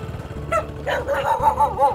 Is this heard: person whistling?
no